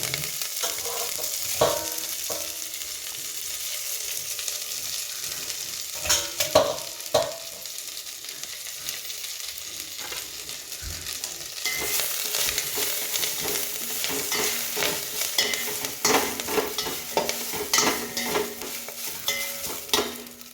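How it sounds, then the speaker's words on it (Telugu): Drumstick leaves sizzle in a hot tempering for chutney while a spoon stirs and scrapes the pan repeatedly, the crackle growing livelier partway through and continuing steadily with no talk. "మునగాకు పచ్చడికి ఇలా పోపు పెట్టానండి. ఇప్పుడు నేను ఇందులో మునగాకు యాడ్ చేస్తాను."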